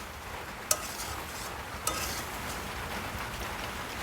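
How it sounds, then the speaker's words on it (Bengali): Spices fry in a pan for a mutton curry with a steady, moderate hiss and two brief metallic clinks from a utensil striking the pan. "মশলাটা ভালোভাবে কষতেছে"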